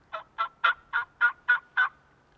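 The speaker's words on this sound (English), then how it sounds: "Usually when a hen yelps, it's just basically asking who's in the general area." A wild turkey hen gives a series of seven evenly spaced yelps, clear and fairly close, in a steady rhythm that stops abruptly against a quiet outdoor background.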